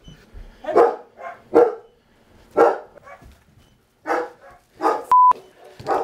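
Dogs barking during a bail enforcement arrest, several loud, sharp barks in uneven bursts up close, with a brief electronic beep near the end.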